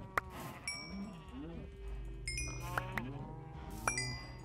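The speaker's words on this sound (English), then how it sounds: "Stop running into the sheep and hold still." Sheep in the Minecraft video game bleat several times in short wavering cries, spaced irregularly over a soft low background, fairly close and clear.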